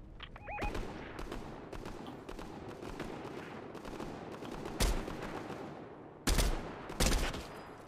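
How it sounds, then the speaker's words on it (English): Gunshots in a video game, a steady stream of distant rapid fire punctuated by a few loud, close, sharp bangs near the end. "Shots."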